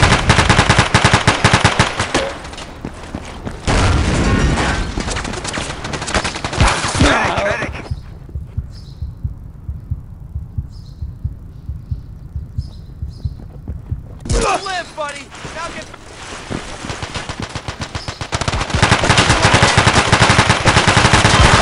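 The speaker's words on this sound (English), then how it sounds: "The weapon will stop firing when its weapon temperature gauge is full." Machine gun fire in the Battlefield 2 video game, long dense bursts of rapid loud shots at the start and end with a quieter stretch of sparse clicks and mechanical sounds between.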